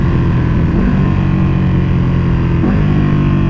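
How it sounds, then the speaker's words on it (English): A 2021 Ducati Panigale V2 with a full Akrapovic exhaust roars loud and close, its deep engine note holding steady, then stepping down in pitch around a downshift; no one speaks. "Let's hear some downshifts."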